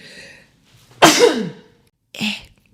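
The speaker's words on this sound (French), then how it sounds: "Attendez, je vais éternuer." A single loud sneeze bursts out close up after a quiet breath in, followed by a short sniff or exhale; a voice is heard briefly before it.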